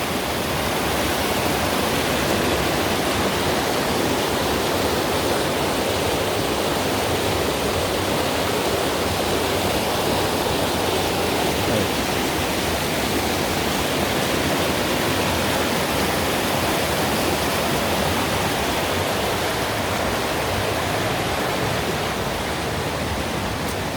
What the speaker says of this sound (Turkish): muhtemelen sulama suyu belki de içme suyu olarak kullanılan billur gibi kar suları